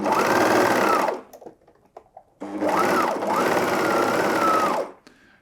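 Juki MO-2000QVP overlocker stitching with differential feed, two loud bursts of rapid mechanical whirring separated by a short pause with faint clicks, close and alone.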